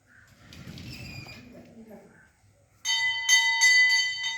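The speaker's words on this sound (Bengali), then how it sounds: "ঘন্টাটা বাজাও" A quiet murmur of voices at first during Durga worship in Purba Bardhaman, then a metal bell rings loudly with several rapid, ringing strikes that keep sounding.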